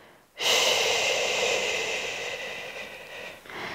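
A long, steady breathy exhale, close and fairly loud, held through an exercise with a resistance band in prenatal Pilates for the first trimester, with no talking over it.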